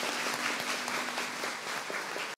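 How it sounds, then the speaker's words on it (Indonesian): A church congregation claps together in steady, dense applause that fills the room, then cuts off abruptly. "Mari kita tepuk tangan untuk Tuhan Yesus Kristus."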